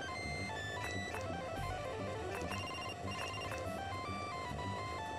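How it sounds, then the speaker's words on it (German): Ringtone preview on an in-game mobile phone in The Sims 2 for Nintendo DS, a bright repeating electronic melody with busy game music underneath, steady and moderately loud throughout with no voices. "wir können hier Klingelton einstellen."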